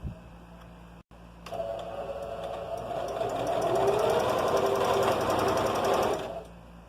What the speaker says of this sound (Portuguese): E aí eu vou passar a costura em toda a faixa do meu tecido